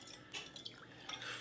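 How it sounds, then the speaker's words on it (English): A spoon stirs a vitamin drink mixed with water in a container, giving a few light clinks and scrapes that sound quiet and close, with no talking. "Give it a quick stir"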